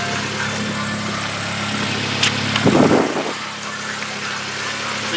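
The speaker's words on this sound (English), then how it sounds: "I have the car running right now" A car engine idles with a steady low hum throughout, joined midway by a brief louder burst of rustling or shuffling nearby.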